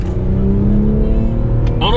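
A 2017 C7 Corvette Grand Sport V8 idles and revs steadily up close, with a continuous low engine drone and rising harmonic tones toward the end.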